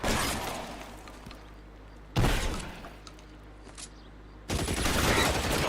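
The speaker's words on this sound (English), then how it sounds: "Oh, he got a Tommy gun." A Tommy gun fires in the crime game L.A. Noire, three loud bursts of rapid automatic fire separated by short pauses, with sharp cracks and a duller rumble between them.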